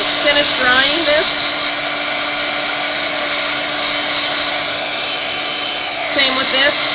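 Heat tool blowing hot air to dry a painted poppy card, a loud steady whirring fan tone that holds for several seconds, rising at the start and again near the end.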